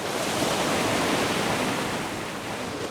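Strong sea waves surge and crash against the rugged rocks of Cheongdeungdo island, a dense, continuous roar of churning surf that stays loud and close throughout with no voices.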